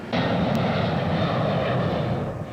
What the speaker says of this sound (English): this Learjet with a Concorde repair crew flew in from New York's Kennedy Airport to make repairs.